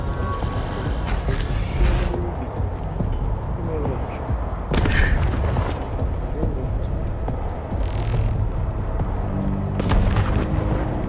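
Gunfire in the video game Wasteland 3: repeated loud shots and booming blasts ring out over a dense, steady game soundscape, with heavier impacts around the middle of the stretch.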